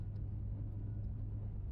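A Renault 5 GT Turbo climbs a hill, its engine a faint, steady, low drone heard from inside the car with no sharp revs.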